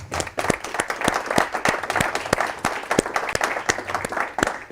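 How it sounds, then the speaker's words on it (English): An audience gives a round of applause for Nino Crudele, the cyber security speaker at a Contica talk. Dense, steady clapping from many hands fills the room throughout, with no voices over it. "please come up and give him a round of applause"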